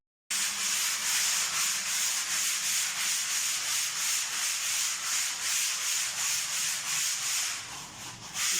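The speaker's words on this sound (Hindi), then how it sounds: "जब ये स्मूथ कर रहे हैं नए प्लस्तर को, रेगमाल लगा रहे हैं" Sandpaper rubbed by hand over fresh new plaster on a house wall before painting, a steady rhythmic scratchy rasp repeating in even strokes, close and continuous without talk.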